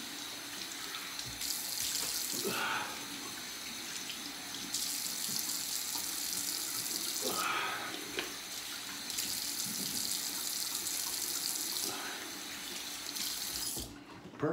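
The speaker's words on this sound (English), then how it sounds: "I'm just gonna rinse my face off, get some aftershave on." A bathroom sink tap runs in bursts as someone rinses their face after a shave, water splashing and gushing near and clear with short pauses between flows.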